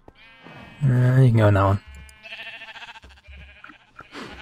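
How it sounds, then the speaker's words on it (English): Sheep in a farming video game bleat loudly and close, one long wavering call followed by fainter bleats, with someone talking at several points across the clip. "Here goes sheep. Alright. Already these guys are making a lot of noise"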